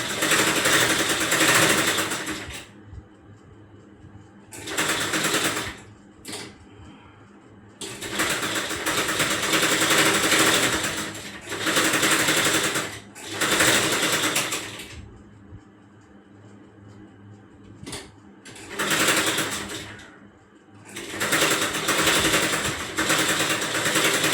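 Sewing machine running straight single-fold stitches on a child's frock, close and loud, in repeated bursts of steady whirring separated by short pauses.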